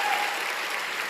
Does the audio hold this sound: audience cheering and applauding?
yes